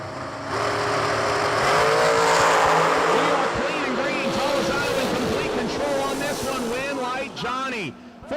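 Miller Chassis dragster launching down a drag strip, engine roar rising loud then fading into the distance, with an announcer talking throughout.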